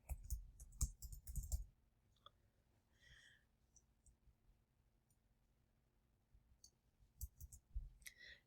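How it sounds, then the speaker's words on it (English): Keyboard typing as code is entered on a computer: bursts of quick, close clicking keystrokes at the start and end, with quieter scattered key taps between, no talk. "so I'm just going to type it out."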